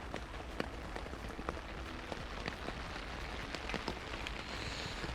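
Steady rain patters on a pond while fishing, a soft, even hiss of drops with scattered louder taps close by.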